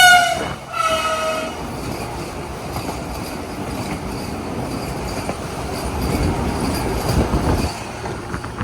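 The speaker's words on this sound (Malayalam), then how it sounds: "മറ്റേ മുംബൈ മഡ്ഗാവ് വന്ദേ ഭാരത് ഇപ്പോൾ വരും." A Mumbai–Madgaon Vande Bharat train, a short eight-coach set, passes a level crossing with a brief horn at the start, followed by a sustained rumble of wheels and rail noise that swells as it goes by, with no talking.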